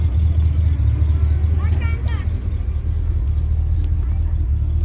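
The V8 engine of a 1976 Pontiac Firebird Trans Am idles with a deep, steady rumble close by, a voice speaking briefly over it midway.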